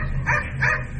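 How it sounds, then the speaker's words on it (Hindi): A dog barks twice in quick succession, loud and close, short yelping calls with a brief gap between them. "उसके कुछ देर बाद ही उसने भौंकना शुरू किया"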